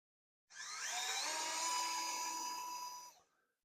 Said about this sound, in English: This is a USB rechargeable Whopper chopper.